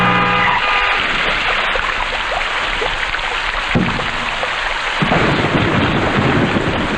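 Heavy rain and rolling thunder in a dramatic movie scene, a dense continuous roar of downpour with deep thunder swelling throughout and no clear speech.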